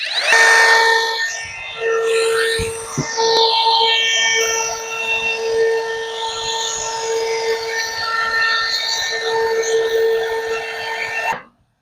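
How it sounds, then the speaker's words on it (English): A router fitted with a roundover bit shapes the edge of a sanded wood piece, a loud, steady high-pitched whine with grinding cutting noise that runs nearly twelve seconds before abruptly stopping. "we'll go ahead and take our roundover bit"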